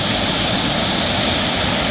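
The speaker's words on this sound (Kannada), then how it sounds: "ಇಷ್ಟೊಂದು ನೀರು ಹೋಗ್ತಾ ಇರುತ್ತೆ" Water pours over Chunchanakatte waterfall in Mysore district, a loud, dense, unbroken roar of rushing water filling the whole short stretch with no voices.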